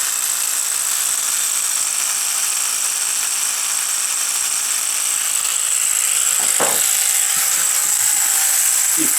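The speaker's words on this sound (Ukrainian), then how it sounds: "Так само включається за допомогою кнопки, зідрали. Але звук. Дивимося. Включаємо інструмент." A cordless engraver for tile work, rated at 8300 rpm, runs steadily with a constant high-pitched motor whine. A couple of brief knocks sound partway through.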